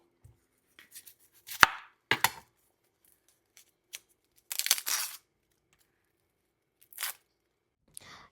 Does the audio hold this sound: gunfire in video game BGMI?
no